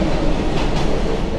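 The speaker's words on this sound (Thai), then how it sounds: "เสียงรถไฟมาคุณผู้ชมมาตามนัดเลย" A train rumbles steadily past nearby, a loud continuous roar of wheels and carriages filling the whole stretch with no talk over it.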